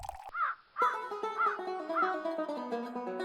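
A crow in an animated children's story caws repeatedly, a series of harsh calls spaced about half a second apart over a sustained musical background.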